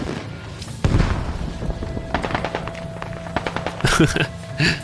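Bursts of gunfire in the video game Squad crackle through a noisy background, sharp shots scattered over several seconds with louder thuds near the end.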